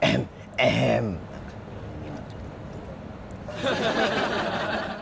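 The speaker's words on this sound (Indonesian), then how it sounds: "Gara-gara mau batuk." A person clears their throat twice in quick rough bursts at close range, followed by a quieter pause and then more raspy throat noise.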